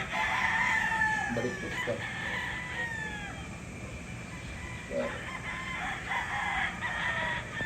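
Gamefarm roosters crow loudly and repeatedly, their long calls overlapping against steady background noise, with a brief voice speaking among them.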